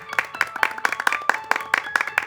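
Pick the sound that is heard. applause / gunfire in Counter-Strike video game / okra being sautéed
applause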